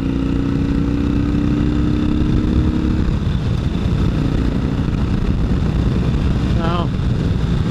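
Wind buffeting while riding a motorcycle, a loud continuous roar with engine hum underneath, steady throughout.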